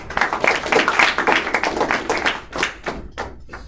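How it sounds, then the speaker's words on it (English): A small room of listeners claps after a classroom talk on communication skills, a brief scattered round of hand claps that thins out into a few last isolated claps. "Let's give it a round of applause"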